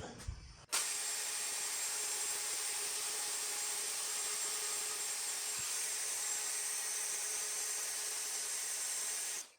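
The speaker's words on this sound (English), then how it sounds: "I've got my router here, and I'm gonna cut these holes out." A router cuts holes in wood for a shoe cabinet, a high, steady whine that starts abruptly after a brief moment and holds loud and unbroken before stopping at the end.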